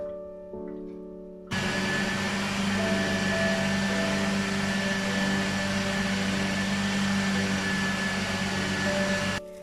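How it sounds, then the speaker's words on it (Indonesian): A kitchen blender whirs loudly and steadily while chopping a homemade chicken nugget mixture seasoned with garlic powder, starting abruptly after a brief quiet moment and running continuously to the end. "Tuh, kalau sudah kita blender ya."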